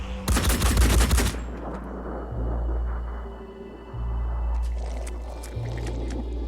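Gunfire in the video game Phoenix Point starts with a loud burst of shots at a crate, followed by quieter rumbling game ambience.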